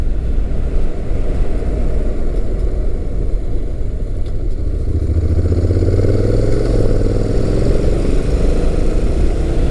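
A 2016 Honda NC700X with a dual-clutch transmission is ridden on the road, its engine drone buried in heavy, steady wind rush, with a rising engine note emerging midway as it pulls.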